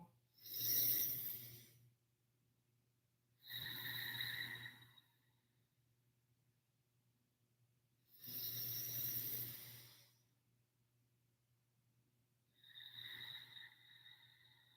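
Slow, full breaths drawn in and let out through the nose during gentle yoga, four long, airy, evenly spaced breaths, quiet and close with calm pauses between.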